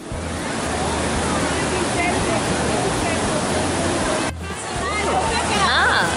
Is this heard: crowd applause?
no